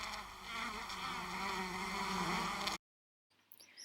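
Honeybees buzzing inside a hive, a dense steady drone that holds for nearly three seconds before cutting off abruptly, followed by a short faint stretch.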